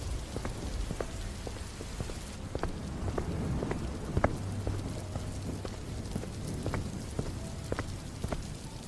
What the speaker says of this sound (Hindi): बस बारिश की आवाज बाकी रह गई थी।